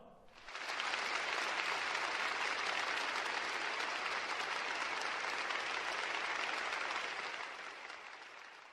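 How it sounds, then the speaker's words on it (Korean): Applause from an audience honoring thermal power plant workers swells quickly, holds as a dense, steady clatter of many hands for several seconds, then tapers off near the end. "전체 화력발전소 노동계급에게 뜨거운 박수를 보내줍시다"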